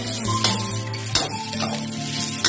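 Stink beans (sator) fry in a pan for a vegetarian green-curry fried rice, giving a steady close sizzle with a few sharper crackles and clinks running throughout.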